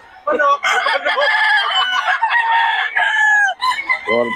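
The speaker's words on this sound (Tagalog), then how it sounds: "Manok! Manok! Manok!" A rooster crows loudly and close by in a long, strained call, followed by a short clucking tail at the end.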